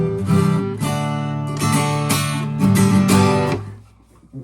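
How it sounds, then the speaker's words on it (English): Acoustic guitar strumming full chords in a steady rhythm, each stroke ringing with bright harmonic overtones, close and loud, no voice. "which sort of sounds like this in chords."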